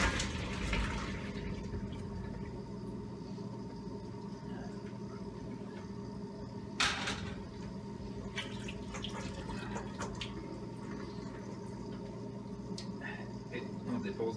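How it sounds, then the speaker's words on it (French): Hot cooked homemade giant coquillette pasta is drained in a colander, with a steady rush of running water and drips, a brief sharp clatter partway through, and light kitchen knocks close by. "Je mets dans le passoire"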